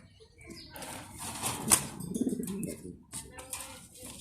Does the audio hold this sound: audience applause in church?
no